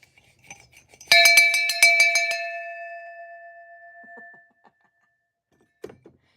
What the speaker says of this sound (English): we're going to ring the bell for that